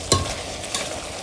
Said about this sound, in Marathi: आता आपण गरम पाणी घालायचं.